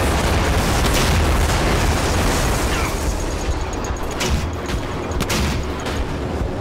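Rocket explosions boom through a firefight in the shooter game RAGE, loud, dense and continuous, with rumbling blasts and sharp bursts layered over each other for several seconds.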